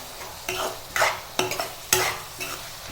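MTR vangibath masala powder is stirred into vegetables frying in oil, with five or six distinct scraping strokes of a spoon against the pan over a soft constant sizzle, close and clear.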